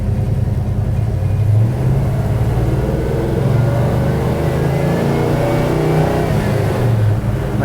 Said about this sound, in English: My 66 GM A-body vehicle, Western Canada.